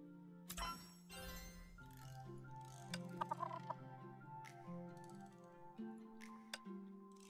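Chickens cluck in a farming game with soft tones over a calm background music loop, with small tick-like clicks near the middle and brief light blips later.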